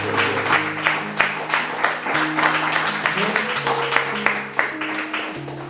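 A church congregation claps in a sustained round of applause during a sermon, with organ or keyboard chords ringing underneath.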